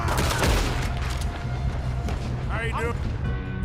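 A loud burst of gunfire from the Red Dead Redemption 2 video game crackles near the start amid game noise and fades, with a voice talking over the shots.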